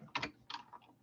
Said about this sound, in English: So I'm going to type in object fit